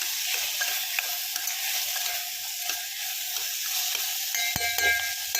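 Masala of tomato, turmeric and chilli stirred in a pan, with a steady bright sizzle and repeated scraping strokes of a spoon throughout and a sharper knock near the end.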